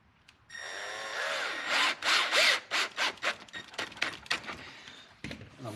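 A power drill bores a screw hole into a plastic electric fan mount during a Volvo 740 fan install. A whining motor runs steadily, then pulses in short, repeated bursts as the bit bites, with no talk.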